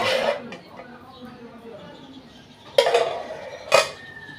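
Ceramic plates and cutlery clink and clatter in a home kitchen, a few sharp knocks standing out over a soft background with voices nearby.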